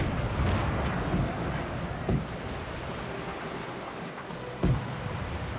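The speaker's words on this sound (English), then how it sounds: "We're continuously firing here." Artillery and rocket fire thunders from a British fort in a Total War game set in the Anglo-Zulu War, as a continuous rumbling barrage with a few sharper booms standing out, no talk.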